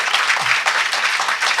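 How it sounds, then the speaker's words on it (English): Close, loud round of audience applause for a panel after a workforce safeguards Q&A session, a continuous burst of many hands clapping throughout without a break. "If we could give a panel a round of applause"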